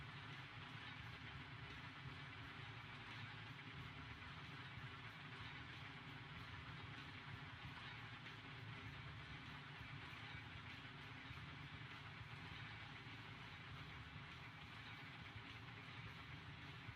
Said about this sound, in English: I am running to catch up to the train.